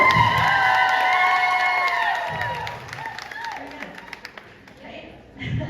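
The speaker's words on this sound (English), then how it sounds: "Are y'all keeping track of the applause?" A crowd at a Premier Yarns crochet meet-up cheers and applauds during a blanket contest, with high whoops and shouts over scattered clapping. The noise eases midway and swells again at the end.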